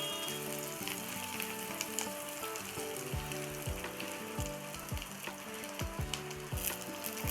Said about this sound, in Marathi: तेलात टाकलेलं होतं ना त्याच तेलामध्ये मी कांदा टाकलेला आहे